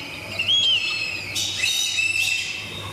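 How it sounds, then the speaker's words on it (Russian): Recorded whistling duck calls play from a loudspeaker at a zoo: thin, high whistled notes repeat over steady background noise. "Я сейчас проиграю свистящим уткам их собственные крики."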